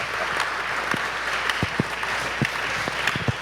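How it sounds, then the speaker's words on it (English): Audience applause fills an Arkansas rock 'n' roll exhibit opening, a steady wash of many hands clapping with scattered louder claps standing out, sustained and fairly close throughout. "would y'all give him a big round of applause?"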